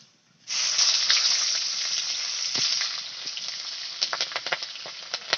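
Nigella seeds and green chillies hit hot oil with a sudden loud sizzle that holds steady, followed by a run of sharp crackles and pops near the end.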